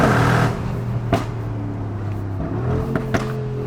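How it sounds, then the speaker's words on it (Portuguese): A Mercedes G63 Brabus idles with a deep, steady engine drone that shifts slightly in pitch, with a few sharp exhaust pops cracking over it. "Os barulhos, os estouros, ó."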